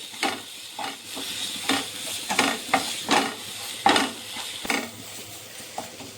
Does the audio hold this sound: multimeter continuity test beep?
no